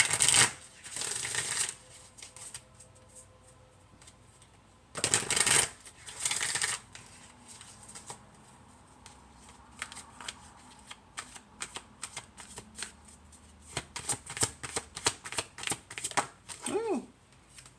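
An Enchanted Map oracle card deck being shuffled by hand, quick crisp bursts of riffling cards in separate bouts between short pauses, with light handling noise.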